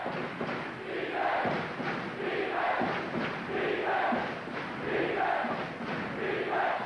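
A college basketball arena crowd at a Duke versus Oklahoma game swells with loud, rhythmic chanting and roaring, pulsing in waves throughout.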